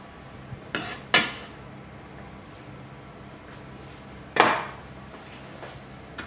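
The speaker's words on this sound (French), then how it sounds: "On mélange." Spoon stirring a stuffing mixture in a bowl for vegetarian stuffed round courgettes, with a few sharp clinks and scrapes against the bowl spread across a quiet background and no talking.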